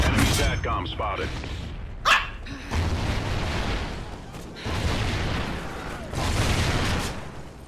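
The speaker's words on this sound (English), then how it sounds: "Guard dog ready." A guard dog in the video game Call of Duty Ghosts barks several times among booming explosions and in-game voice callouts.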